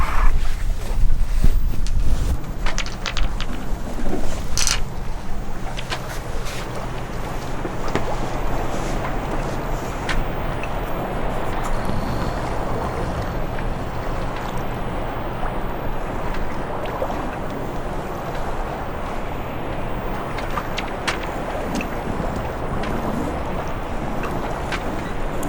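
A sailboat running up the West Solent under sail, with steady wind rushing past the microphone and water washing along the hull, continuous and fairly loud throughout with no voices.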